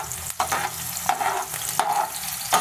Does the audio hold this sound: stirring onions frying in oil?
yes